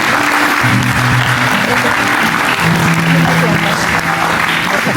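An audience claps to welcome a guitarist at an evening cultural gathering, a loud, dense, sustained wash of applause with some voices and crowd murmur mixed in throughout.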